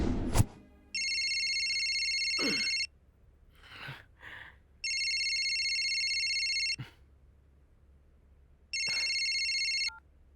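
A phone rings in three long electronic bursts separated by pauses, with a few soft knocks and rustles in between, fairly close.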